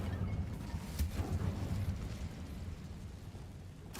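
An Incendio fire spell from the Hogwarts Legacy video game, heard as soft, crackling bursts that flare twice over a low rumbling whoosh, alone with no voices.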